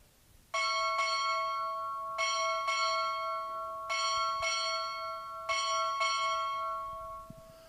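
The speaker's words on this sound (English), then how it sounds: "Strike 8 bells." A ship's bell rings eight bells at a Navy boot camp graduation ceremony, in four evenly spaced pairs of clear metallic strikes, each ringing out before the next pair.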